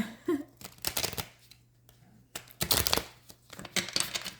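Bursts of rapid riffling and soft slapping as a deck of tarot cards is shuffled up close, in several quick passes separated by brief pauses.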